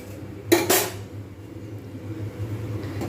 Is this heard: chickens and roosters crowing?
no